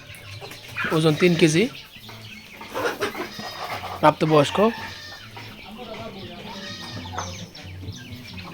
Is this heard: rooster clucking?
yes